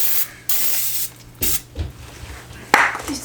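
Lubricant spray hisses out of a can onto Jeep Grand Cherokee WJ suspension parts in several short close bursts separated by pauses, mixed with faint handling knocks.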